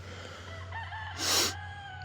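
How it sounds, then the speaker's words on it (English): A rooster gives a short crowing call, moderately loud, over a steady low electrical hum and faint background noise. "these roosters will start crowing at like 3 o'clock in the morning"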